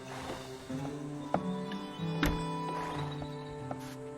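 A horse in Black Desert Online whinnies and its hooves clip-clop at a walk, alongside game music tones and a sharp sound effect. The sounds are moderately loud and play continuously, with no talk.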